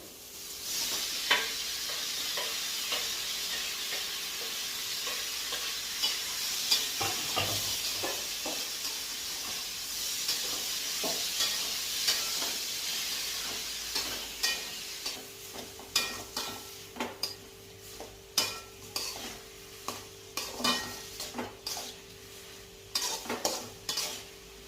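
Tomatoes and onions cooking in a pan, a continuous sizzle and hiss with a steady frying texture, then a run of sharp scraping stirs from a utensil against the pan toward the end, close and moderately loud.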